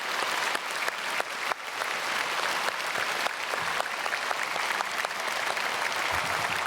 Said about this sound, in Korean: 우리 솔리스트 정말 새벽에 얼마나 찬양이 은혜가 되는지 모르고 크게 박수하겠습니다